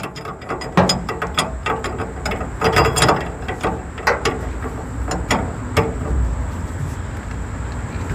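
Ratchet or wrench work removing the nut from a drop shackle bolt on the rear of a 2007-2014 Chevrolet Silverado or GMC Sierra, with close, loud clicking and metallic clunks in uneven bursts and no talking.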